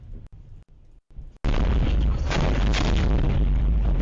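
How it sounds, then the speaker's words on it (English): An explosion in war footage erupts after a few faint knocks, a sudden loud boom that swells into a sustained roaring blast filling the rest of the moment. "this is where it's an explosion"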